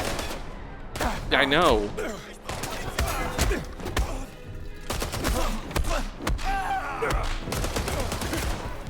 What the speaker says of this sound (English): You're being shot at.